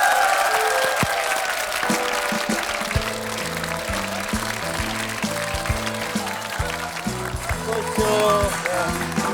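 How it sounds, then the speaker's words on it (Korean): Broad studio audience applause welcoming a singer on a 1995 Korean TV music show fills the whole stretch, steady and loud, with music playing underneath. "박수로 환영해 주십시오."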